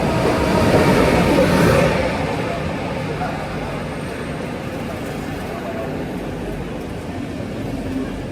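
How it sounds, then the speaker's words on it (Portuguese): A train from Berlin crossing Poland rolls along with a steady low rumble and rush, louder at first and then settling into a continuous, even drone of wheels on track. "O trem saiu de Berlim na hora certinha"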